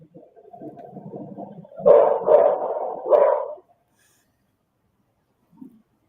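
A dog gives a run of several loud, closely spaced barks after a lower rising whine, then falls silent apart from one faint sound near the end.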